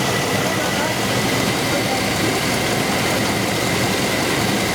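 Chevy Vortec 5.7L V8 idles steadily after an injector repair, a continuous close engine rumble with no misfire stumble, running alone without talk.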